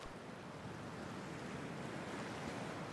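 Icy water in the Cyberpunk 2077 video game, heard as a steady, close wash of broadband water noise like surf, splashing and churning continuously without a break and with no talking.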